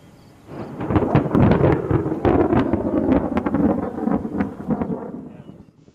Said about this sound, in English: expensive electronic equipment was damaged from this lightning strike